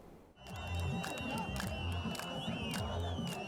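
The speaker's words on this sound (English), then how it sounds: "Jubilant crowds flooded the streets of Damascus on Tuesday after US President Donald Trump announced the lifting of sanctions on Syria" Jubilant crowds celebrating in the streets of Damascus: a dense roar of cheering voices swells up after a brief quiet start, laced with shrill whistles and shouts, loud and continuous.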